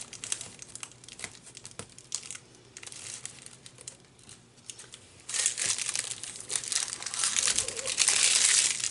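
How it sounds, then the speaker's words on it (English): Plastic wrapper being peeled and crinkled off a boxed product, steady crackling and rustling up close that grows louder and busier in the second half, with no talking. "I can take the wrapper off and make that sound go away for you"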